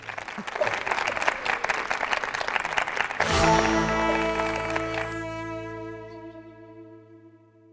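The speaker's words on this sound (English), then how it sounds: "Audience, give yourself a round of applause." Audience clapping at the close of a church-hosted debate on land expropriation without compensation, a busy round of applause that gives way midway to a loud sustained musical chord ringing out and slowly fading.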